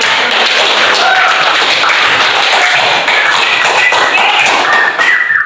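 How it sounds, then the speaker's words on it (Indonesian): Students in a vocational school classroom clapping for classmates who presented, a dense continuous patter of many hands, loud and close, sustained throughout with no talk. "Silakan kasih aplaus untuk teman-teman kita"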